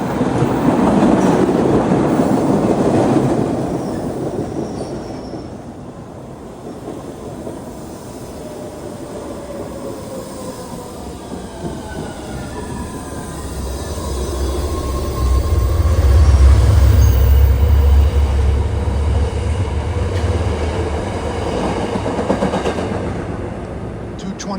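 MBTA commuter rail train 1021 from South Station, bound for Kingston, passes through the station area with a swelling low rumble and rolling wheel clatter, loudest near the end, with a voice briefly heard early on.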